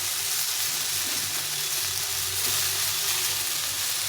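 Water-soaked, hand-squeezed mustard greens hit a hot pan, setting off a loud, steady, close-up sizzle and crackle that holds without a break for about four seconds, with no talking.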